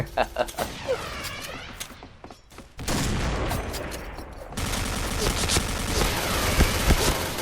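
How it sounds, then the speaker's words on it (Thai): Bursts of rapid automatic gunfire and shots ring out in the video game PUBG, dense and loud, with a player's voice talking over the shooting. "ยิงกันกระหน่ำเลย"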